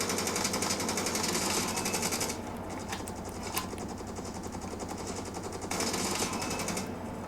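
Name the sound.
gunfire in a mobile shooter video game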